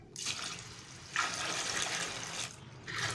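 Tap water gushing steadily into a pot of barley, wheat and lentils being washed for beef haleem, a close, continuous splashing fill with a short pause before the pour resumes.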